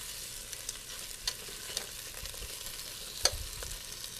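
Meat browns in a pan for a homemade pasta sauce, a quiet, steady sizzle broken by a few light clicks of stirring, with no voices.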